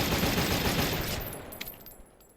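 Gunfire from a rifle fitted with a moderate class muzzle brake in the VR game H3VR, a dense loud burst of shots that tails off into a fading echo.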